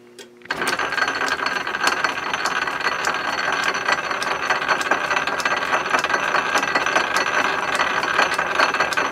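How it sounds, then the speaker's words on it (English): A metal lathe runs with the half nut engaged while winding a spring, giving a steady mechanical whir with rapid, regular ratcheting clicks throughout, close and fairly loud with no talking. "I'm going to do is engage the half nut before I turn the lathe on"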